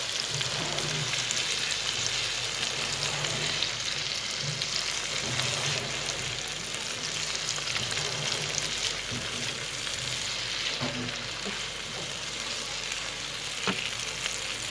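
Maghaz (goat brain) with green chillies fries in a pan for a masala gravy, giving a steady, even sizzle and crackle throughout with faint stirring scrapes and no talking.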